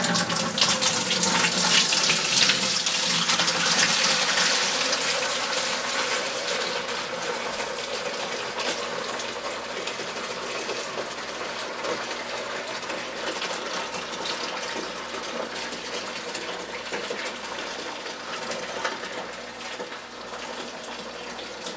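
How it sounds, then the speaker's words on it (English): Irish stout wort from an all-malt homebrew kit pours steadily through a strainer that catches hop sediment, a continuous splashing gush loudest at the start and easing slightly as it runs on, with no talk. "Running it through the strainer here to catch all that hop"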